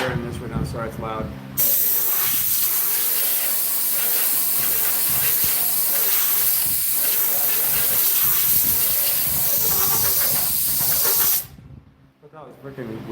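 An air compressor blows a loud, continuous hiss of air into a homemade flute, starting abruptly after a brief moment of talk and ending sharply near the close.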